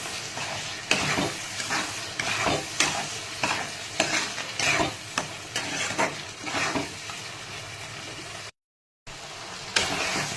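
Pindi chana masala is stirred in a pan with a little water added, producing rhythmic scraping strokes over a soft bubbling sizzle. The strokes repeat about every half second, with one brief dropout near the end.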